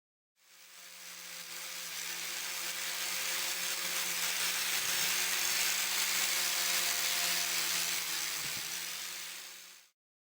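Cracked live-edge wood filled with CA glue is machine-sanded in one continuous pass, a broad hissing whir that ramps up, holds for several seconds with a steady motor hum and faint bumps, then cuts off.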